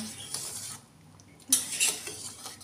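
A metal spatula presses and stirs fish pieces into a sour raw-mango gravy in a pan, with scraping clinks and soft wet stirring that come in a couple of close bursts and a quiet pause between them.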